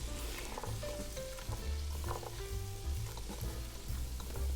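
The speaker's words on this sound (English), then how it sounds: "Then add in your cooking caramel. Ideally, we want to stir fry this until the sauce starts seeping into the chestnut slightly." Chestnuts stir-fried with cooking caramel sauce sizzle steadily in a hot pan, a continuous close frying hiss broken by occasional spatula scrapes and stirring taps.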